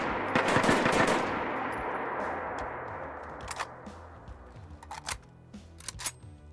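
An M1 Carbine fires unsilenced in a Fallout 4 mod: a loud opening volley of rapid shots rings out with a long decaying echo, followed by a few sharp mechanical clicks and clacks.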